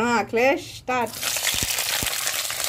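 Green chillies hit hot oil in a pan and set off a steady, fizzing sizzle with a few soft pops, close and continuous after a person speaks briefly at the start.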